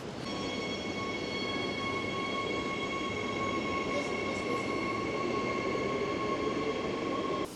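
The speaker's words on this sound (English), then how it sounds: "Right, I better get on the train." A train at a station gives a steady, loud rumble with sustained high whining tones, close and continuous throughout. No voices are heard.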